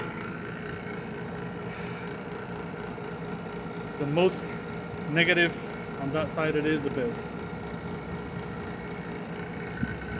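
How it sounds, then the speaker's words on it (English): A vacuum pump hooked to a mini split air conditioner line runs with a continuous steady drone and faint whine, under a voice speaking over it. "after an hour of running the vacuum pump"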